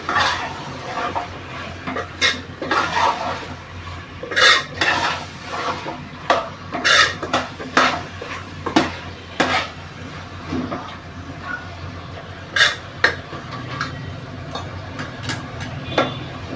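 A spoon scrapes and knocks around a pan while prawn potato masala is stirred and sautéed, giving irregular clinks and scrapes over a soft sizzle, close and fairly loud throughout.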